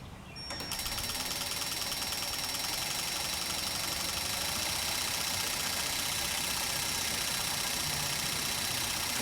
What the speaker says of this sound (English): As we rotate our distributor, we should hear the injector's pulse.